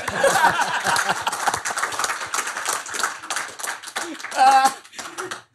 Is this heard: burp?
no